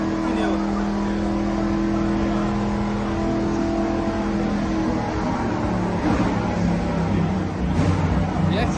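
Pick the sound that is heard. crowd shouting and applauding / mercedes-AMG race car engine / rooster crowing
mercedes-AMG race car engine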